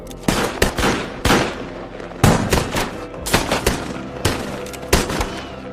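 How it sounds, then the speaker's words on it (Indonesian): A gunfight in a western film crackles with a rapid exchange of sharp gunshots, with repeated close, loud cracks and bursts in irregular clusters and echoing tails between them. "Saling jual tembakan pun terjadi."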